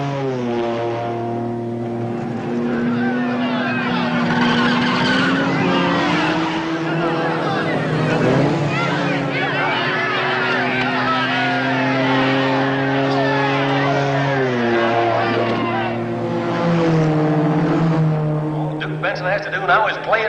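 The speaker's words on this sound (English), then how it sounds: "the ability of Duke Benson to stay up there with Phil Hill's Italian Ferrari." Vintage 1950s race cars, among them an Italian Ferrari, racing past with sustained engine tones that rise and fall in pitch, loud and near, with a commentator talking over them.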